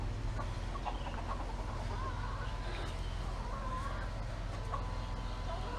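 Small chickens in a compact coop and run give soft, scattered clucks over a steady low background hum, faint and somewhat distant throughout.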